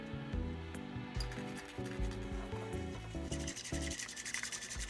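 Matcha is whisked briskly by hand with a bamboo whisk, giving a steady, close scratchy rubbing rhythm that carries on for several seconds without talk.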